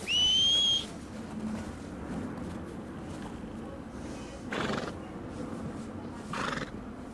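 A horse in the video game Red Dead Redemption 2 whinnies loudly in a high, shrill burst at the start, followed by quieter ambient noise and a couple of soft rustling bursts.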